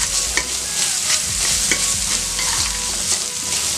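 Chopped capsicum tossed and stir-fried in an oiled pan for cauliflower chilli gobi fried rice, with loud, continuous sizzling and quick rhythmic scraping of the spatula throughout.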